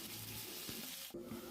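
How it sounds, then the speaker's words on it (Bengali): Chopped onions tossed into hot oil over tempered whole spices for a mutton curry give a faint, steady sizzle with a brief stirring scrape near the end. "ফোড়ন ভাজা হয়ে গেছে, তো আমি ফোড়নের মধ্যে কুচানো পেঁয়াজগুলো দিয়ে দিলাম।"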